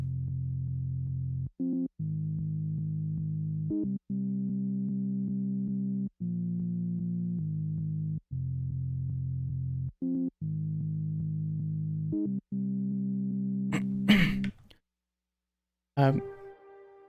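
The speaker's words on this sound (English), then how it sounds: "this is basically a massive wavetable I really like" A filtered Polysaw wavetable synth for drum and bass plays sustained, buzzy chords that shift roughly every two seconds with short gaps between them, then ends in a brief noisy burst, a moment of silence and a final hit.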